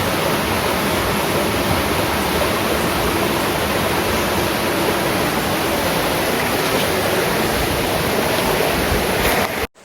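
Steady, loud rush of water from a natural spring at Tung-ab Lagoon in Floridablanca, Pampanga, a continuous broadband flow that stays constant close by with no talking, cutting off abruptly at the very end.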